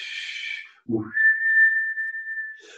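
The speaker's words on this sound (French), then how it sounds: "tu fais comme si tu sifflais" A person whistles through pursed lips during a yoga breathing exercise, producing a single steady, sustained clear tone of about one and a half seconds after a brief breathy exhale, fairly close and alone.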